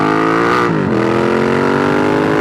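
A truck passes on the road, a loud, steady engine drone with a rising then falling pitch sweep as it goes by close. No talk is heard.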